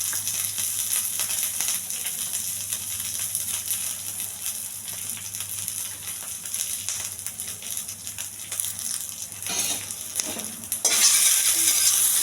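Curry leaves, urad dal and cumin crackling in hot oil with onions for a cabbage and chana dal fry, a continuous bright sizzle with a steady low hum beneath and a few utensil scrapes near the end.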